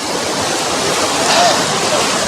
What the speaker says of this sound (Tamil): அந்த சத்தம் உங்களுக்கு கேட்குதா அருவியோட சத்தம் வேறு லெவலில் இருக்குது